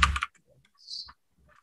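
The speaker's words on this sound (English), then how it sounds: "I apologize if my mechanical keyboard is too loud." Keys on a mechanical computer keyboard clack in a quick burst of typing at the start, followed by a few scattered lighter clicks and a brief high-pitched tone, close and fairly quiet.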